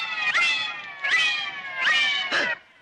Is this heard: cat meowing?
yes